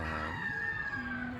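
A rooster crows in one long, sustained call at mid distance, with other crowing and fowl clucking behind it, set on the outskirts of a Philippine city.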